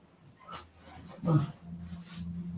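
A dog shifts around and lets out soft whimpers and whines, short low cries rising briefly near the middle, with faint rustling of movement around them and no clear talk.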